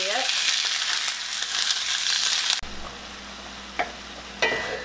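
Sausage sizzles and fries in a pan, a loud hiss that drops sharply halfway through, followed by quieter crackling and a few scraping stirs.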